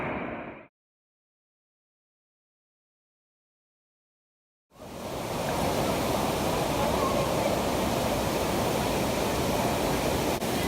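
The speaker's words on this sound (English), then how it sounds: "Look at these waterfalls." Rushing water from a cold waterfall on a forest trail, Raleigh Moore Falls, pours as a steady broadband roar after a brief burst and several seconds of silence.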